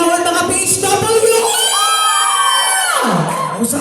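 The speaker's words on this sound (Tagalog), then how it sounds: "Magpalakpakan sa hiyawan, mga PHW!" A crowd of health workers cheers, whoops and shouts loudly together, a dense burst of raised voices that peaks and then falls away near the end.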